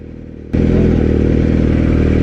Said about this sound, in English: He wants to see me do a wheelie.